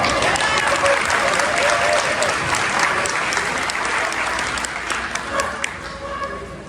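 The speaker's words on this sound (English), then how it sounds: "how about another round of applause for Paula?" Applause from the audience at a District 10 community meeting, honoring Paula: a full round of many people clapping at once, steady and fairly loud, with a few voices mixed in before it thins toward the end.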